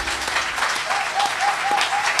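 Congregation clapping in a church hall, a dense, steady burst of applause close by that fills the whole short span, with a few faint sung notes rising through it.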